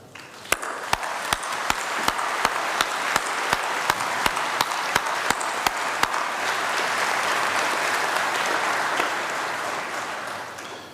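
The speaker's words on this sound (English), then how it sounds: "they deserve a proper round of applause for that." Graduation audience at a School of Computing ceremony breaks into sustained applause, a dense wash of clapping lasting about eleven seconds with sharp, regular percussive hits in the first half, then fading slightly at the end.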